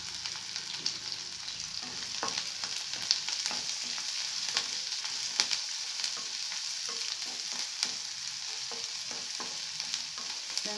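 Onions fry in oil with ginger, garlic, green chillies and curry leaves as the base for a cauliflower and egg scramble. A faint, even crackle continues throughout, dotted with small spatula taps and scrapes, with no talk.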